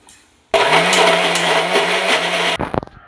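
Mixer grinder whirring steadily as it grinds small pieces of gooseberry (amla) into a paste, a loud continuous motor drone for about two seconds that cuts off abruptly, followed by a few clattering knocks.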